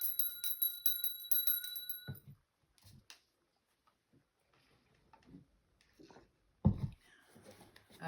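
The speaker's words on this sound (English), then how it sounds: "I'm going to go ahead and ring the bell." A bell rings at the opening of a pick-a-card reading, its bright sustained tones holding steady for about two seconds before stopping abruptly, followed by quiet with faint scattered handling noises.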